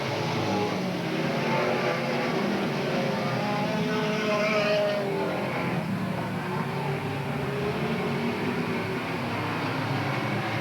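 Race cars roaring back up to speed on the Willamette Speedway oval after a green flag, a dense continuous engine drone at a steady distance with no talk over it.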